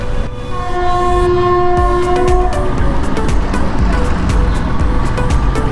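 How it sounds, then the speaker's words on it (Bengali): A local train passes close by, starting with a long sustained horn blast and followed by a loud, steady rolling rumble with clicking from the wheels. "ট্রেন যাচ্ছে, লোকাল ট্রেন মনে হয়।"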